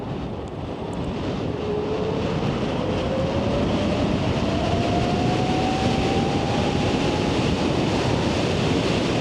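An upgraded e-bike, boosted from 35 mph to over 60 mph, whirs steadily while being ridden; a faint motor whine climbs in pitch beneath loud, constant wind rush.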